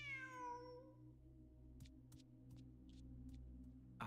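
A cat in the Genshin Impact video game gives a single clear meow, followed by faint ticking and light game sound effects in the background.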